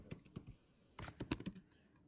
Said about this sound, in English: I'm just gonna just gonna finish typing what I was typing before you passed it to me